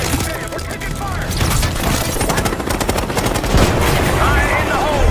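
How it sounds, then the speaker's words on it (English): Dense, rapid gunfire crackles through a Call of Duty Black Ops 6 cutscene as loud, overlapping bursts and shots that continue without a break, with background shouting mixed in. "We're taking fire!"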